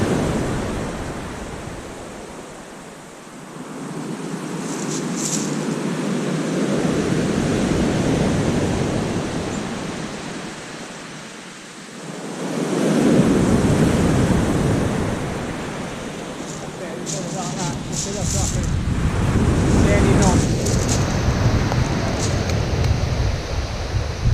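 Sea waves breaking on Weybourne beach during a morning of beach fishing for cod, a loud continuous surf roar that swells and recedes in slow surges, mixed with wind buffeting the microphone.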